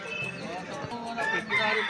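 A rooster crows amid the bustle of a weekly chicken and fish market in Anandapur, Keonjhar. The call rises and falls clearly over a noisy crowd background, with voices nearby.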